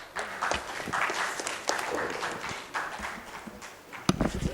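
An audience at a conference applauds to welcome a speaker to the podium, a steady wash of clapping from a crowd that carries on throughout, with a sharp thump near the end.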